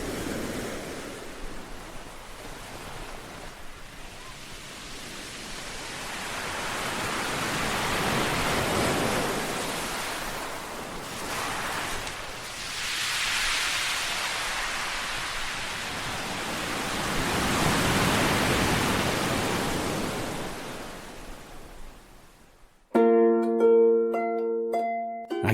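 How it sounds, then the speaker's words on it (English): Surf rolls onto the beach at Brighton in broad, slow swells of washing noise, building and fading twice at moderate loudness, with a brief burst of unrelated music at the very end. "I could listen to the sea for a very long time."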